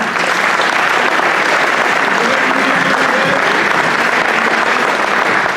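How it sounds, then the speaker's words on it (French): A large audience at a 2015 diploma award ceremony applauds without pause, making a dense, loud, even wash of clapping that fills the whole stretch with no gaps. "vous pouvez l'applaudir également"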